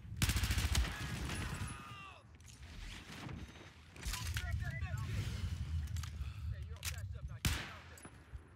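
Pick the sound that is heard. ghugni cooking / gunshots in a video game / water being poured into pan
gunshots in a video game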